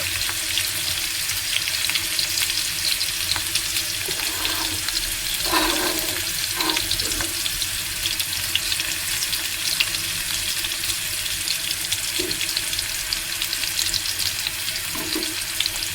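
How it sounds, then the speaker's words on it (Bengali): Onions fry in a pan with a loud, continuous close-up sizzle that holds steady throughout, broken only by a few faint clinks. "পেঁয়াজটা ভাজা ভাজা হয়ে গেছে"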